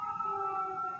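A steady emergency vehicle siren wails outside, its sustained tones droning without a break, fairly loud and with no voices over it.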